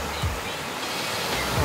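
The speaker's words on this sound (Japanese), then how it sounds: "波の音を聞いて" Ocean waves washing onto a beach on a Miyako Island shore, a steady broadband surf wash with soft low swells, fairly close and continuous, with no talk over it.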